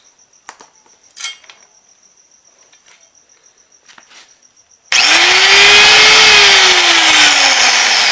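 A Makita 4100NH power tool motor switches on abruptly after a quiet stretch of faint clicks and handling, then runs loud and steady with a high whine that slowly drops in pitch.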